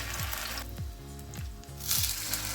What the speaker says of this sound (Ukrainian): На сковорідку наливаємо олію соняшникову рафіновану і викладаємо бутерброди начинкою вниз.